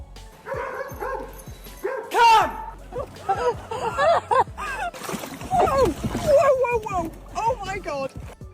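Two dogs chasing a moose bark and yelp in rapid, irregular bursts, fairly close and loud, with splashing and scuffling noises mixed in between the barks.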